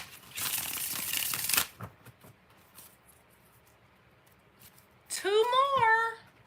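Tarot cards are shuffled in a quick riffling burst near the start, followed by quiet handling, then a person speaks briefly near the end.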